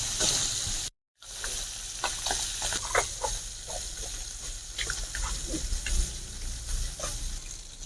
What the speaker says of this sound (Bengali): আর এক পিঠটায় দেখুন আমি আবার ভেজে নেবো একে উল্টে দিয়ে